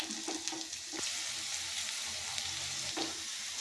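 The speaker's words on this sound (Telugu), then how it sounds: "ఇలా మధ్యలో కలుపుతూ వేయించుకోవాలి, లేకపోతే మాడిపోతాయి, ఈవెన్గా వేగవు బెండకాయలు." Okra frying in a pan, with steady close sizzling and crackling broken up by a few soft scraping stirs, and no voices.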